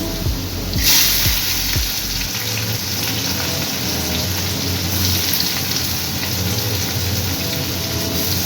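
Onion, nigella seeds and dried red chilli fry in hot oil with a loud, steady crackling sizzle, after a few sharp pops and clatters as the ingredients drop into the pan.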